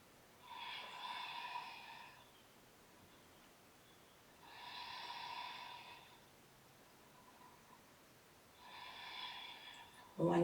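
Slow, deep breaths taken during a yoga session: three long, airy breaths close to the microphone, evenly spaced a few seconds apart, with quiet pauses between them and no talking.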